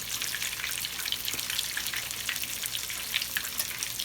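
Fish fries in a pan over medium heat, a steady crackling sizzle with busy spattering pops and no talking, fairly quiet and continuous.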